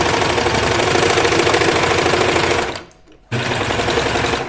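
Serger sewing machine stitching flannel at close range, a fast loud mechanical rattle that runs steadily, cuts out for about half a second, then starts again.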